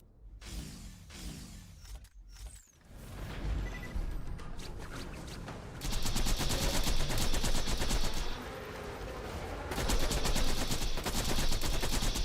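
Sniper rifle fire from Maya's doll sniper in Borderlands 2, with shots and impacts sounding in quick bursts over the game's steady noise. The bursts grow louder and denser partway through.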